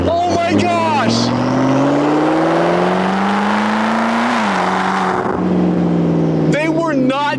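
A McLaren sports car accelerates hard from inside the cabin, its engine note rising loudly through several rapid, seamless upshifts. A voice exclaims briefly at the start and end.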